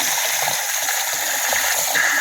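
A bathroom sink faucet with makeshift plumbing runs at full flow, a steady hissing rush of water that stays even and close throughout.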